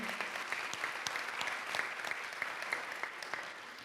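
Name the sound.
audience applause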